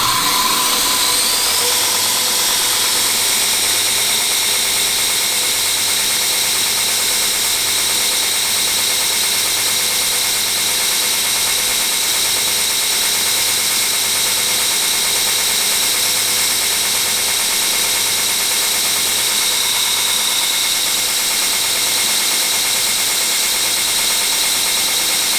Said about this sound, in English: I'm just going to use the belt just to roll into that sort of flute of the drill, and it will reduce that centre point thickness